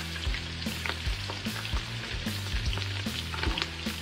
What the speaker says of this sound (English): I'm gonna saute the neck and gizzard with all these yummy vegetables.